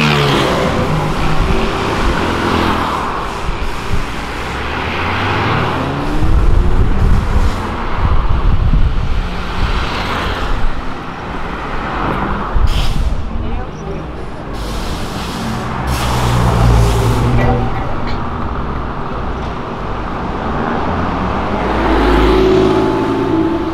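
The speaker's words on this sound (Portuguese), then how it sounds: "Vocês podem ver, tem pouco carro de rico passando aqui." Cars and trucks passing on a city street, a continuous rumble of traffic with swelling pass-bys and occasional hissing bursts like air brakes, fairly loud and close.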